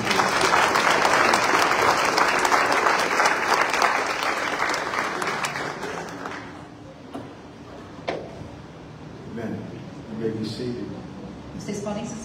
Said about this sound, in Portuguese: Aplauda Jesus mais uma vez.